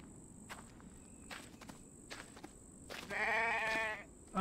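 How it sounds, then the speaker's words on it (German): A sheep bleats once in The Infected video game, a short, clear wavering call standing out near the end against a quiet ambient background with faint rustles and soft footstep-like sounds. "Ah, ein Schaf."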